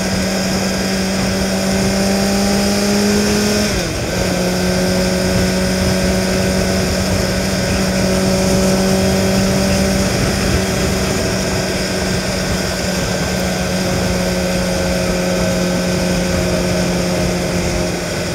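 A car cruises on the freeway stuck behind a slow truck doing about 30 mph, giving a loud, steady engine and road drone with tonal hum. Around four seconds in, the pitch briefly dips and shifts before the drone settles again.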